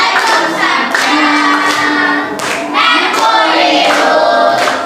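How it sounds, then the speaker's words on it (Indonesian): Children in a classroom clap their hands in several loud bursts. Voices sound steadily over the clapping. "Boleh tepuk tangannya."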